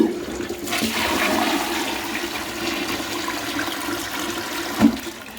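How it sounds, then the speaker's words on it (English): Newly installed toilet flushing for the first time after bathroom plumbing work, a loud continuous rush of water filling the room close up, with a brief clunk near the end and no talk. "Right, you'll witness the first flush."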